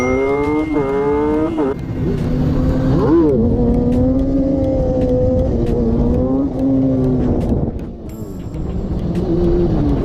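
A stolen car in a GTA-style prank does wheelies and speeds away, engine revving and rising in pitch through repeated gear changes, loud and sustained with some background noise.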